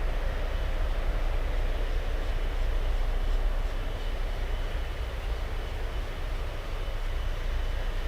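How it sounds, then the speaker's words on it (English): A Virgin Atlantic Airbus A350 airliner rolls out after landing on diagonal runway 12 at Miami airport, a continuous, broad distant engine roar that holds steady and dips slightly toward the end, with no voices. "Virgin Atlantic just landed on the diagonal runway 12."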